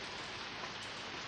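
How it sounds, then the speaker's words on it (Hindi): Heavy rain pours down steadily, a dense, even hiss of drops hitting surfaces that fills the whole short stretch without any break or voices. "बारिश, देखो आप कितनी शानदार हो रही है"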